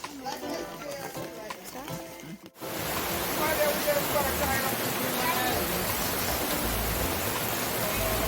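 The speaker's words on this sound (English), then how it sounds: "It's raining all around me." Heavy rain falls outdoors in Jamaica during outdoor cooking, a steady broadband wash that starts abruptly and continues loud and unbroken, with faint talk and sounds beforehand.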